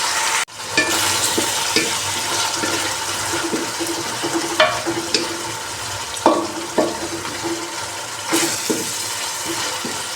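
Fenugreek leaves are stir-fried in masala for dhaba-style methi palak, with a continuous sizzle broken by repeated scraping stir strokes, close and fairly loud.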